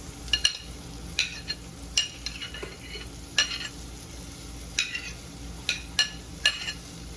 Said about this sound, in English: I'm going to throw in my scallions.